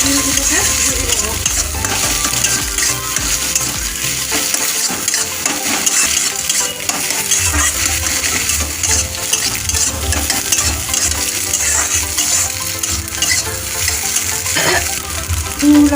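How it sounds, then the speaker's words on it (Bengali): Eggs seasoned with salt and turmeric fry loudly in a pan, a dense continuous sizzle with scraping stirs and occasional metallic clinks throughout. "এবার এটাকে এইভাবে ডিমগুলোকে ভেজে দেবো।"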